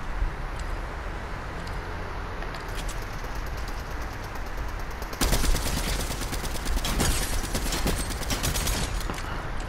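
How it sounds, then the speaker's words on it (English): Rapid video-game gunfire rattles in dense automatic bursts, quieter and sparse at first, then loud and continuous for the second half, close and unbroken with no talk. "He's shooting me."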